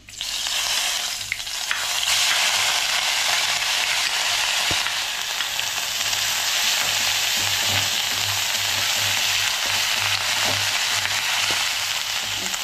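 Ginger garlic paste fries in hot oil for a Palak Paneer, a loud, steady sizzle held close throughout, broken by occasional faint clicks of stirring, with no talking.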